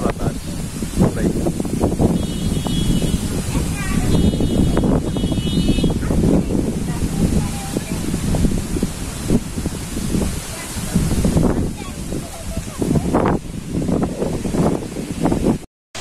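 Strong wind blowing outdoors in a village, a steady loud rushing and buffeting across the microphone, with leaves rustling and occasional knocks.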